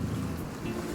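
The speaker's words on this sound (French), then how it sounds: "Il y a des vagues là." Sea waves and swell wash around a sailboat entering a very narrow pass under sail without its engine off French Guiana, a steady low rumbling surge with wind noise buffeting the microphone throughout.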